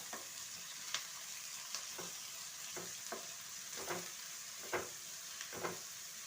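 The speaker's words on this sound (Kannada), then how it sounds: "ಮೆಣಸಿನ್ಕಾಯಿ, ಕರಿಬೇವು ಎಲ್ಲ ಹಾಕಿ ಸ್ವಲ್ಪ ಫ್ರೈ ಮಾಡ್ಕೊಳ್ಳೋಣ" Green chillies and curry leaves fry in hot oil for oggarane rice, a steady close sizzle broken by periodic scraping stirs of a spoon in the pan.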